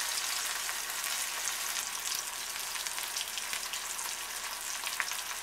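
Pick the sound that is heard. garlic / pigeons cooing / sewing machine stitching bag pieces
garlic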